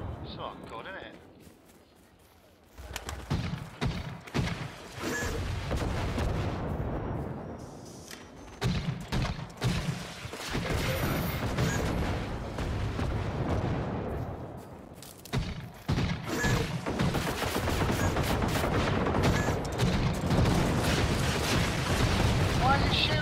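Gunfire in the Generation Zero video game, a dense run of shots and blasts filling most of the stretch after a quiet opening, loud and continuous with players talking over it.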